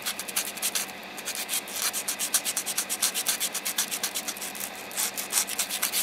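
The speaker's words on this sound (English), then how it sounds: "just sanding this smooth" Rhythmic back-and-forth rubbing of sandpaper smoothing a plastic P-38 Lightning model kit, steady quick strokes close by, continuing without pause and no talking.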